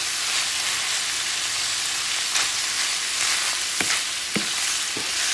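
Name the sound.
chorizo sausage and potatoes frying in a pan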